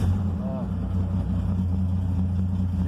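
A 1990 Chevrolet Caravan with a six-cylinder engine idles cold just after starting, a steady low rumble running continuously for the whole stretch with no pause.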